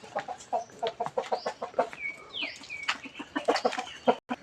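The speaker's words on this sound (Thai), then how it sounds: "ก็ไก่ก็มาเดินเล่นด้วยกันนี่แหละนะ" Chickens wander about the grounds of Wat Pong Chai in Chae Hom, Lampang, clucking busily and close by, with a few higher squawks in between.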